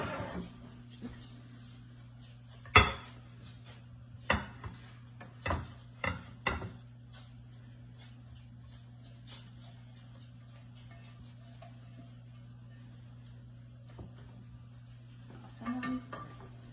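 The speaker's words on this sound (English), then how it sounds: "So now this is all cooked up. I'm going to transfer this to this pan here." Cooked sausage for a Thanksgiving side dish scraped and tipped into a pan, a handful of sharp clinks and knocks of utensil on cookware spread through the first seven seconds, then quiet over a steady low hum, with a faint clatter near the end.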